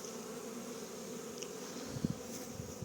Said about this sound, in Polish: pszczoły też przylatują z pola z pyłkiem w dużej ilości